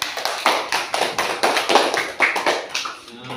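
Applause from a small group of students in a classroom, a steady patter of claps that rises and then thins out near the end, fairly close and with no one talking.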